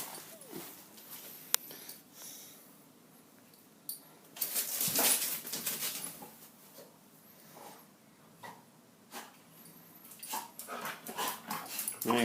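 A visiting dog plays with a stick in a workshop, giving short yips and whimpers with scuffling bursts, close by and loudest midway and near the end, with no talking.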